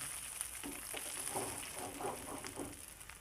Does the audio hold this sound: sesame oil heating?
yes